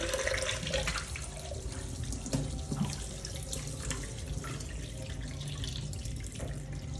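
Tap water running steadily into a sink while fish is washed at a Nairobi fish market, a continuous close hiss and splash with small shifts as the fish is handled, no speech.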